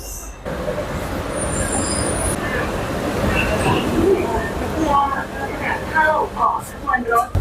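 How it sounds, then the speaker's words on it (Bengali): A Bangkok BTS Skytrain pulls into an elevated station with a steady mechanical rumble, building toward a hiss of brakes and clatter, while voices murmur faintly in the background. "আমাদের বিটিএস স্কাই ট্রেন হচ্ছে চলে আসছে"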